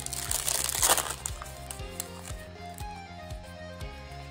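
A trading card booster pack wrapper being torn open and crinkled, a burst of close foil crackling followed by softer rustling handling.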